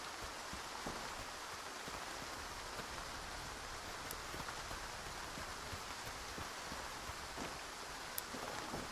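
Steady rain falls in the video game S.T.A.L.K.E.R. 2, a dense, even hiss of drops on surfaces with occasional sharper taps, heard close and constant with no talk.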